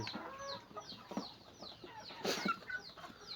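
Several chickens cluck in irregular bursts close by, with scattered peeps and a busy farmyard murmur underneath; no talking.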